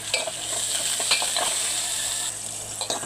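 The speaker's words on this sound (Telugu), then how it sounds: "ఉల్లిపాయలు వేసేసుకున్నాం ఇది కూడా బాగా వేగిపోవాలండి" Onions sizzle steadily in a pan with fried dried red chillies, a close, continuous hiss broken by stirring clinks while cooking Andhra-style horse gram ulava kattu.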